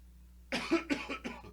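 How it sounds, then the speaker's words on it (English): Four quick coughs in a row, close and fairly loud, starting after a short silence with no talking. "this is how you cough. Into your arm."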